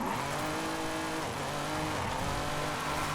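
A 1973 Lamborghini roars through Forza Horizon 5 with a loud, steady engine drone that holds high throughout, and faint tire scrubbing shows up briefly along the way.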